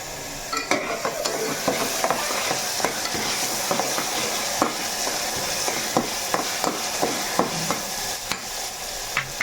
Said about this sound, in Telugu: ఇంకా కొంచెం వేగాలి ఇలా మనకి కొంచెం వేగిన తర్వాత పచ్చిమిర్చి టమాటా కూడా వేసేసుకోవాలి